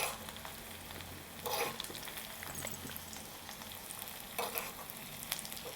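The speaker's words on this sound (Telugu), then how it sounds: "ఇప్పుడు వీటిని కొంచెం వేగనిద్దాము" Crushed garlic and tempering spices sizzle and fry in very hot oil for a curd rasam, a steady crackling hiss with brief louder bursts as the pan is stirred, close up and with no talk.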